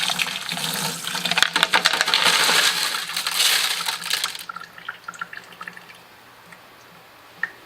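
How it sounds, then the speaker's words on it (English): Rocks and gritty slurry pour out of a homemade rock tumbler barrel in a loud, rattling, splashing rush of a few seconds, then trail off into scattered drips and small clinks. "as I pour this and let me know if this slurry looks like it did its job"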